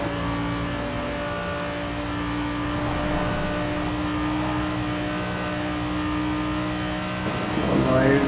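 Audi R8 V10 Plus in Forza, its V10 engine droning steadily at speed with a harmonic whine that swells slightly, then revs up sharply near the end; a voice talks over it.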